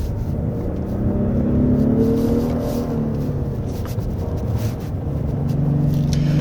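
A 2024 Genesis G90 with a 48-volt electric supercharger and AWD accelerating on a winding mountain road, a steady low engine drone rising in pitch and swelling as revs climb, heard from inside the cabin.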